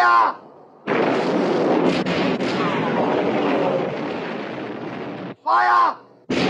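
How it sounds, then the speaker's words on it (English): Battleship turret guns firing in the 1960 film Sink the Bismarck, a heavy booming blast with a long rumbling roll, set between shouted commands spoken before and after. "All turrets ready to open fire, sir. Open fire! Fire!"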